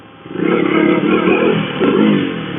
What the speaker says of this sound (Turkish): motorun aşırı tatlı bir sesi var ya